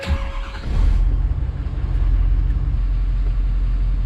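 A 2013 Ford F250 with a 6.7 Powerstroke diesel engine idling after an oil change, a steady low rumble that stays loud and continuous throughout, heard close by with no talking.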